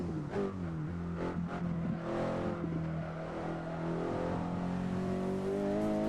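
A Volvo S60R with 300 horsepower, all-wheel drive and a six-speed manual drones steadily in a driving simulator, its engine note holding a loud sustained tone with slight pitch shifts as it cruises.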